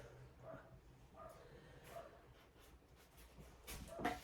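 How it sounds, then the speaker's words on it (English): A puppy barks a few times in the distance, faint, short yips against a quiet background. "Puppy's barking."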